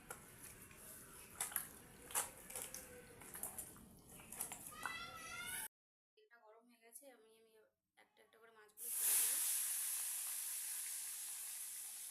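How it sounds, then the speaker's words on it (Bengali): Catla fish drops into hot oil and sets off a loud, bright sizzle that slowly fades over the last few seconds, after stretches of handling noise and talking. "মাছটা ওদিকে ভাজা হচ্ছে"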